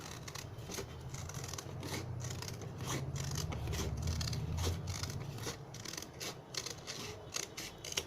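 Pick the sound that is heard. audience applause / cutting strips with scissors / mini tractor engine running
cutting strips with scissors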